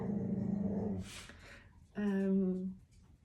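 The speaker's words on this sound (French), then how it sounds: "je vous envoie tout mon amour en dehors des aboiements de mon chien" A pet dog barks and growls twice in short bursts, fairly close, with a brief pause between them and no other sound alongside.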